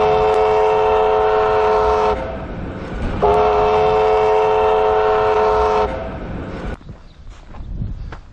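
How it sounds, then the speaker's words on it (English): Train horn on the old Pichi Richi Railway, sounding two long, loud blasts with a pause between, over a rumbling train, then fading into quieter rail noise. "I can hear the train whistling now"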